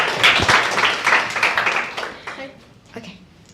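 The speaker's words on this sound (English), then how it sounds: "Give applause to Briza" An audience at an electoral reform forum in Indonesia claps for a presenter, a burst of fairly close applause that thins out and fades over a few seconds, with a voice speaking over it near the end.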